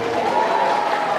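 Audience at a religious lecture breaks into brief, dense applause, a short burst of clapping from a crowd heard close and fairly loud.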